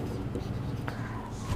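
Pen or marker strokes scratch across paper or a board during a hand-written accounting lesson on share forfeiture entries, a faint, continuous scraping texture heard on its own with no talking.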